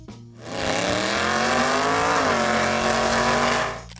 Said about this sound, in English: the 1969 Plymouth Hemi Barracuda Superstock